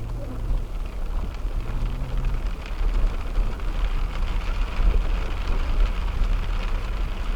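Steady rain falls on a vehicle driving a county road on a rainy evening between Animas Forks ghost town and Silverton, Colorado, a constant dense patter over low road and engine rumble with no pauses.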